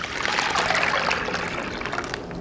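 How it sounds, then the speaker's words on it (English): Greenish slurry poured from a blender into a bag, a continuous wet splashing trickle lasting a couple of seconds, close and fairly loud, with no talk. "and then pour."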